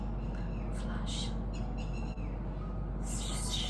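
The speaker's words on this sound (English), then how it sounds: "Shut up, bird, shut up." A bird calls repeatedly in a room over a steady low hum, its cries loud and close, bursting in around the first second and again near the end while a person speaks.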